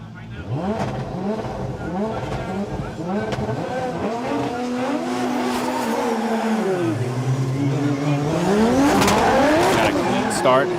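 Two drift cars, a Toyota GR86 and a Lexus IS 500, rev hard and squeal their tires on a hillside course at a Formula Drift Japan round at Gransnow Okuibuki, Shiga, engines rising and falling continuously under an excited commentator's voice.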